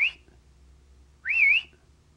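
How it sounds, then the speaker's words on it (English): A person whistles twice to get attention, a short rising whistle followed after a pause by a longer wavering one, close and clear over a quiet background hum. "to get someone's attention or your dog's attention, that's what you do. You just whistle this."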